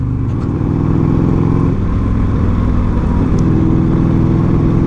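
A 1984 Harley Davidson FLT Tour Glide motorcycle accelerates in third gear, its loud, close V-twin engine note holding a steady rumbling drone with a brief dip in pitch partway through before pulling again.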